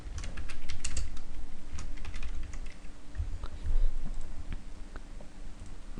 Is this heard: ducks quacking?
no